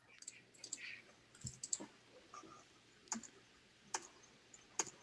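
Quiet clicks of a computer keyboard key being pressed and released, a few scattered sharp taps spaced about a second apart over faint room noise.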